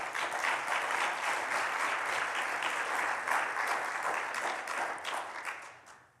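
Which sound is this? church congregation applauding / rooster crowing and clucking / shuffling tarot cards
church congregation applauding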